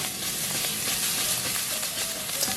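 Garlic and preserved radish stir-frying in a hot pan, a dense continuous sizzle with light scraping of the spatula, close and steady.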